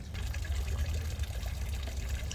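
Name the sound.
water feature trickling in botanical garden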